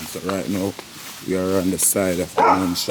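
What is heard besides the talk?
neighbor's dog barking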